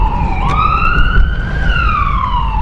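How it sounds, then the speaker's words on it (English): An ambulance siren wails nearby over steady traffic rumble, its pitch sweeping up and down in a continuous loud tone as the vehicle passes. "If the siren is on, you always let the ambulance, go first."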